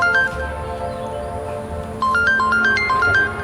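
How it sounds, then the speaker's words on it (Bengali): A phone ringtone plays as a repeating electronic melody of clear beeping notes, steady and fairly loud, with a second louder run of notes near the end; no talk over it. "আব্বা ফোন দিছো।"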